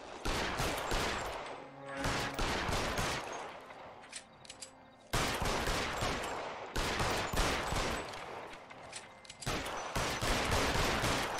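Gunfire in L.A. Noire rings out as repeated loud, sharp shots in dense bursts across the whole stretch, with short lulls between volleys.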